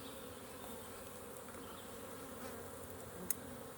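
Honeybee buzzing steadily and close during a hive inspection, a continuous insect drone with a brief sharp click near the end.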